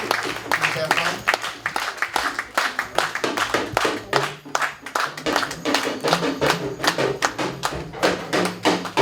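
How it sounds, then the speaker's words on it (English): Audience applause greeting a delegation arriving at a Native American chiefs' welcome event, a dense sustained clapping from many hands that holds steady throughout with some murmuring voices mixed in. "please a round of applause as they come"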